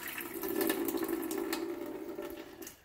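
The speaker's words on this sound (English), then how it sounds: "Get all the gunky water out and pour it out." Rinse water pours out of a sprouting jar, a steady close splashing gush that runs several seconds and then tapers off.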